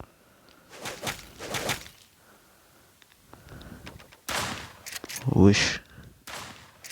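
Gunfire from a video game 1v1 match, a few sharp bursts rising out of mixed speech from players talking over it, with one louder cluster of shots near the end.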